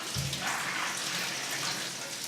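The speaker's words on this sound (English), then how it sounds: "and then rinse them off." Soaked almonds, already drained, are rinsed under running water: a steady, close splashing wash that runs for a couple of seconds with no pauses.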